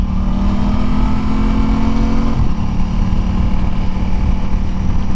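A motorcycle engine drones loud and steady as the bike leans into a turn with throttle picked up, a dense continuous roar with a slight shift in pitch partway through, and no talking.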